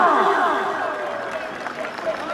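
Loud crowd applause and cheering from an audience at a comedy stage show, a dense sustained wash of clapping mixed with voices and babble that slowly eases off.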